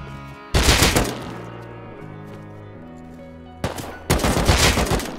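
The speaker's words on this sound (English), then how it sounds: "I just shot blind and I actually think I got that guy" Two dense, loud bursts of close gunfire in the survival game Rust, separated by a few seconds of music-backed quiet.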